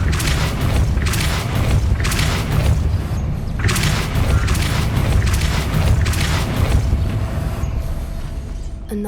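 Depulso force-push spell cast in Hogwarts Legacy, heard as a series of loud, deep booming blasts with broad rushing bursts, repeating in heavy pulses with no talking.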